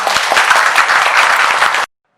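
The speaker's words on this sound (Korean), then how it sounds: "박수로 맞아주십시오." A crowd at a redevelopment design-firm briefing in a hall claps steadily for about two seconds, a dense, even patter that stops abruptly.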